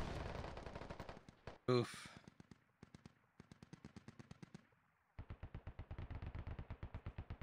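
Automatic weapon fire in a military squad shooter game: rapid rattling bursts, then a long even volley near the end, loud and close. A voice briefly exclaims over the shots.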